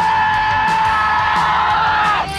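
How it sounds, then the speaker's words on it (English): A large crowd at a contest in Japan yells and whoops together in a loud, sustained roar that holds steady and then cuts off at the end. "not as much as these people shouting at a contest in Japan"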